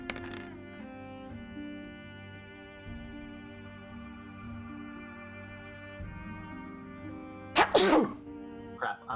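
A single sharp sneeze bursts out near the end, loud and close, during a tabletop role-playing game session, with a quiet room hum and faint background tones throughout.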